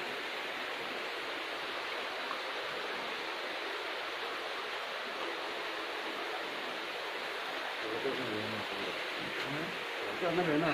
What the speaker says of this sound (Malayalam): അടുത്ത് വെള്ളം ഒഴുകുന്നുണ്ട്